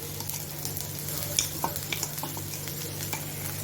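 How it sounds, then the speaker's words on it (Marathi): Masala with coriander and cumin frying in oil while being stirred, a steady close sizzle with scattered scraping and stirring clicks over a constant low hum. "मसाला मी चांगला तेलामध्ये परतून घेतो"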